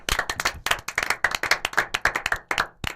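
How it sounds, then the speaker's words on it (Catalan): Studio audience applauding on a Catalan football talk show, a close, lively round of hand claps with uneven bursts that swell and ease, ending in a few last sharp claps. "Un aplaudiment pel Bravo"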